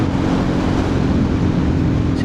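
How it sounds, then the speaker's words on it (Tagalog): Strong wind roars steadily into the microphone on a Euro Rock R125 motorcycle ride along Whiting Road, a loud, constant rumbling buffet with no speech over it. "Lakas ng hangin."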